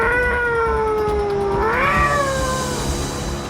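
A person imitates a cat, giving a long, drawn-out meow that rises and bends in pitch, close and fairly loud with a faint background hum.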